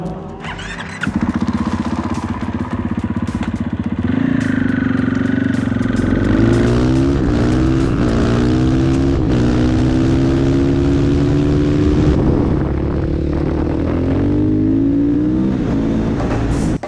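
A supermoto motorcycle engine revs up and roars loudly, rising and falling in pitch through repeated gear changes as it accelerates away on a test ride, close and continuous.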